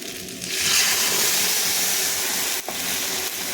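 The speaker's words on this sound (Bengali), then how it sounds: "এরপর এখানে আমি সর্ষে বাটা জলটা দিয়ে দেবো" Mustard paste mixed with water poured into a hot pan of frying taro and vegetables for a salted-fish curry, setting off a loud, steady sizzling hiss that lasts the whole moment with a brief dip partway.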